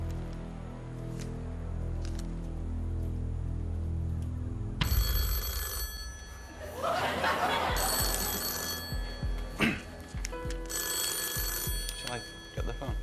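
A telephone rings in bursts on a television game show studio set, shrill and bright, with voices and studio murmur in the background.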